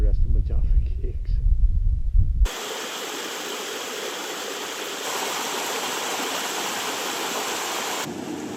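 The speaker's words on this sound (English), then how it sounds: "this is one of the really cool waterfalls on the way down" A waterfall in a rocky river in Glenveagh, Donegal, runs at low flow and gives a steady, loud, close rushing roar over the rocks, after a few seconds of someone talking at the start.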